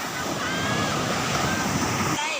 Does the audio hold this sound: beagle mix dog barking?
no